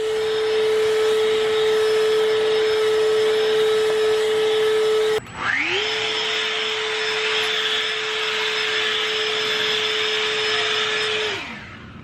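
An electric backpack leaf blower runs outdoors at a steady high whine with rushing air, briefly cuts out, then ramps back up to a higher-pitched roar before spinning down, loud and near.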